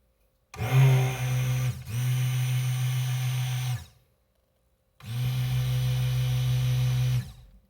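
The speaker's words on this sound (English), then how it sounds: "When I put my immersion blender in here" An immersion blender mixing cold process soap whirs in three bursts, each running steadily for a couple of seconds, with short pauses and a brief silence between them.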